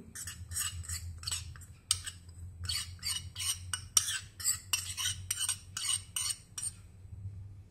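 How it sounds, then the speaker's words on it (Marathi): A spoon stirs bitter gourd pickle with mustard dal in a jar, a quiet series of rhythmic clinks and scrapes against the container with no talk. "आता आपण हे लोणचं थोडंसं हलवून घेऊ"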